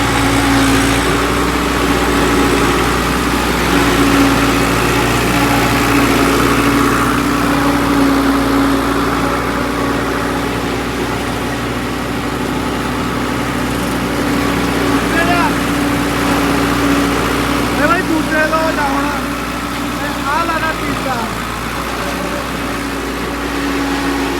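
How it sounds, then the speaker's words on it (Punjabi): A tractor engine running steadily nearby, a loud low idling drone that holds throughout, with a person talking over it and faint chirping sounds later on. "ਚੱਲ ਰਿਹਾ ਟਰੈਕਟਰ ਦਿਖਾਉਣਾ ਹੈ ਤੁਹਾਨੂੰ"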